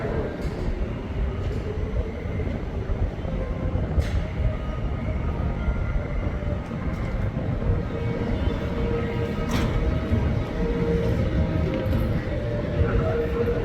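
A KRL commuter train rolls through Duri station in Jakarta with a steady, heavy rumble and clatter of wheels and cars, close and continuous, while a station announcement voice plays over it.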